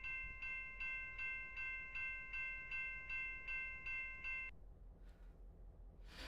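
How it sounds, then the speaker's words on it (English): A steam train passes in the Roblox game SRI Terminal (RO-Scale): about nine evenly spaced, loud tonal blasts ring out in a steady rhythm over a low rumble, then stop, leaving a quieter rumble and a brief hiss near the end. "There we go. Train coming."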